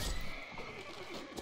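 A horse neighs in a brief whinny amid noisy battle sounds in the video game Mount & Blade Warband.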